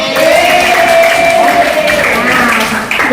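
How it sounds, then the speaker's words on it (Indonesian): Audience applause at a school gathering after student competition wins in futsal and dance are announced. A loud, continuous wash of clapping and crowd noise close by, with voices threaded through it, fading slightly at the end. "Tepuk tangan."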